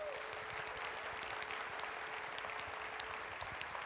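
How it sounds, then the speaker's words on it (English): A keynote audience at a Python Software Foundation conference gives a round of applause. The steady, even clapping sounds faint and distant throughout, with a low constant hum beneath it. "can we please give him a round of applause?"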